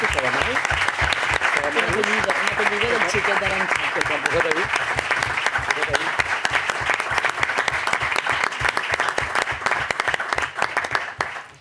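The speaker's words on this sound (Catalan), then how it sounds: "Un aplaudiment, no per les falleres majors" An audience in a town council chamber during a plenary session gives steady, dense applause that continues for several seconds, with a voice briefly speaking over it early on.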